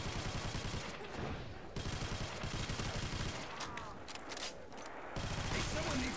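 Rapid automatic gunfire rings out in a World at War custom zombies map, with bursts of rattling shots broken by short pauses. Game sounds and a voice run underneath.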